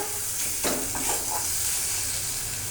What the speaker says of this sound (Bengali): আবারও নাড়ব।